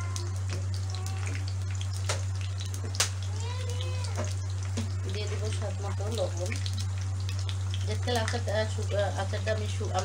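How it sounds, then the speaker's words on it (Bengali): Raw mango pieces with ginger-garlic paste fry for a pickle, a steady close sizzle and occasional stirring under a constant low hum, with someone talking and a cat meowing intermittently. "আমি এগুলো ভালো করে ভেজে নেব।"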